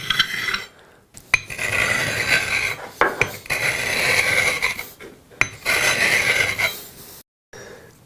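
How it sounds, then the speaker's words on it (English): A corner chisel is rubbed on a sharpening stone in long, loud, gritty scraping strokes. Each stroke runs a second or more, with brief pauses between them. "So just put it on its natural angle and sharpen it back."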